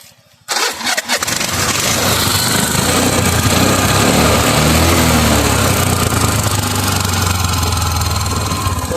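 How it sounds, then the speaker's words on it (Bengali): A Hero Xtreme motorcycle engine cranks and catches after a brief silence, then settles into a steady, loud idle close by. "সো আমরা যদি বাইকের আপনাদেরকে স্টার্ট করে সাউন্ডটা দেখাই"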